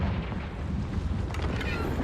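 A Confringo blasting spell explodes in Hogwarts Legacy, heard as a steady, deep, booming rumble with crackling debris throughout.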